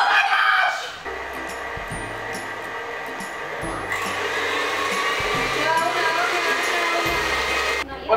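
Electric mixer beating dough in a home kitchen, whirring with a strained, uneven drone that surges and dips in repeated bursts, loud and near after a brief opening.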